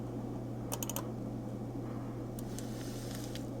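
Typing on a computer keyboard, a few quick clusters of soft key clicks over a steady low background hum, faint and close, with no talking.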